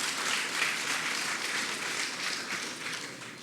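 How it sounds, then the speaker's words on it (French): An audience gathered for a parchment presentation to President Macron breaks into sustained applause, a dense wash of clapping that holds steady and slowly eases off. "On applaudit les blessés."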